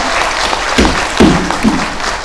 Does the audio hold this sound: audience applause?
yes